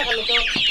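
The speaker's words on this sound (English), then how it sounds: "Oh, there's a lot of chickens." Several free-range chickens cluck together on a Kenyan village farm, a close, busy layered chorus of short calls with a brief low thump near the end.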